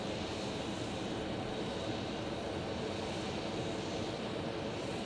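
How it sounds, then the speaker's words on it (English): A Boeing 777 taxies for repositioning at Phoenix Sky Harbor airport, its engines making a steady, continuous broadband roar that holds level without breaks from start to end, with no voices. "that 777 getting repositioned for the London flight tonight"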